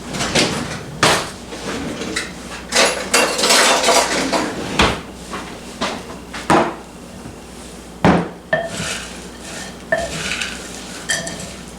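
Hash brown and cheese mixture being stirred for a cheesy kielbasa hash brown casserole, with repeated clinks and scrapes of a utensil against a dish and scattered louder knocks, close and without talk.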